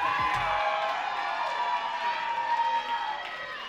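Crowd at an all-star and champions Jack and Jill dance competition final cheering and whooping steadily, a loud sustained roar of many voices throughout.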